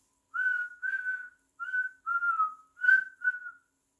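Six short, clear whistle tones in an irregular rhythm, each at a steady pitch, sounding alone in near silence; the whistling may come from a person imitating a train whistle.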